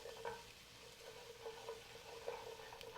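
Garlic cloves sizzle steadily in hot oil in a pan while being stirred, with soft scraping strokes over a continuous frying hiss, heard close and without talk.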